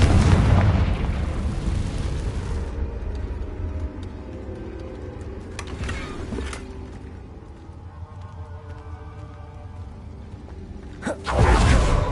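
Confringo blasting spell from a video game going off as a loud booming explosion, which rolls into a long rumbling decay and ends with another heavy burst.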